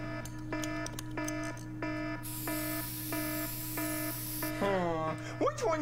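A repeating electronic alarm beeps in steady regular pulses, about twice a second, over a constant low hum, with a hissing spray partway through and brief voices near the end.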